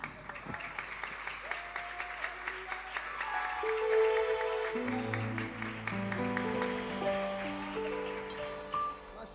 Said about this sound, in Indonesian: Mari kita bertepuk tangan.